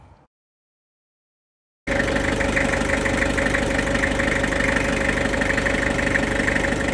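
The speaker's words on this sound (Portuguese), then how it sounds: "Dos motores a diesel, este sem dúvida é um dos melhores sons que existem." After a moment of silence a Toyota Hilux SR diesel engine fires up abruptly and settles into a steady, loud, rumbling idle that continues without pause.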